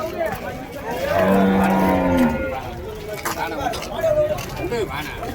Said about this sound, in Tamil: இதுவும் நாட்டு பசு மாடுங்க.